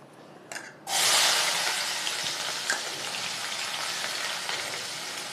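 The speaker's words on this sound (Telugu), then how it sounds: "నూనె బాగా వేడెక్కింది ఇప్పుడు ఉల్లిపాయలు వేసుకుందాం" Sliced onions dropped into hot oil burst into a loud, sudden sizzle that settles into a steady frying hiss, with a small clink or two before it begins.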